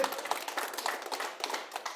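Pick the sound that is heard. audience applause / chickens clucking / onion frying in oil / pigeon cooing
audience applause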